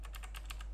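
Keycaps being pressed back onto a Genesis Thor 300 gaming keyboard with Outemu blue switches, giving a quick run of six or seven close, sharp plastic clicks over a steady low hum.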